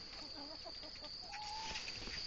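A hen clucks in a few short, faint calls against steady background hiss, with no talking.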